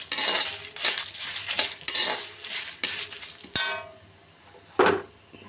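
Dried red chillies and curry leaves being stirred while dry-roasting in a pan for karam podi: a steady run of metallic spoon scrapes and clinks, close and fairly loud, then tapering off into quieter sizzle with one last clatter.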